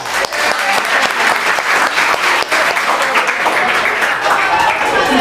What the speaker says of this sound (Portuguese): a salva de palmas pra Pâmela